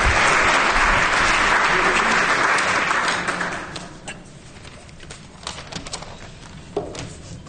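An audience at the close of a public talk applauds in a full, dense burst that fades out after about four seconds, leaving scattered handling noises and a few isolated claps.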